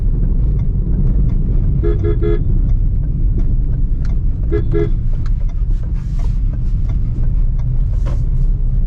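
Steady low tyre rumble from a New Dzire car rolling over an uneven tiled village road, loud and continuous, with a couple of brief horn toots from nearby traffic and a faint voice.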